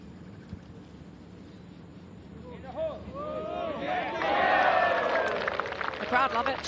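Golf gallery at an LPGA tournament greeting a putt on the green, quiet ambience swelling into cheers, whoops and scattered clapping that build over the last few seconds, with a commentator's voice running underneath.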